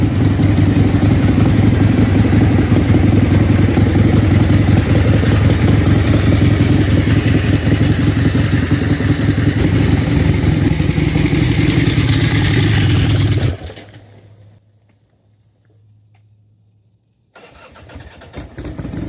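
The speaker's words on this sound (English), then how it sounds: "fired up the Harley and backed it out of the shed" A Harley-Davidson Ironhead Sportster motorcycle engine fires up and runs loud and close with a steady, rumbling idle, then cuts out abruptly into near silence for a few seconds before faint sound returns.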